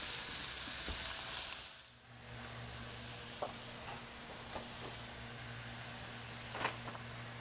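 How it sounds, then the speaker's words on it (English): Zucchini and onions sauteing in a pan give a steady soft sizzle with a low hum underneath and a few small clicks of a utensil, quiet and close throughout. "You can see I've got my zucchini and my onions in here sauteing."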